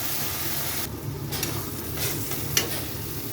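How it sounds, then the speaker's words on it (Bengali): Spice paste for Bengali crab masala stir-fried in a pan, a steady close sizzle with scraping stirs and a sharp clink near the end, no voices. "মশলাটা খুব ভালো মতো কষাতে হবে।"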